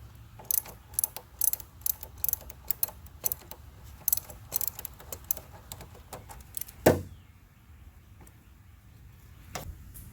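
A ratchet wrench on the 13 mm battery terminal nut of a 2003–2008 Infiniti G35, quick bursts of close, crisp clicking that stop after a few seconds, followed by one louder clack and then near silence.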